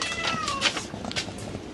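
A cat meowing nearby, a few short, close meows in quick succession over faint background noise.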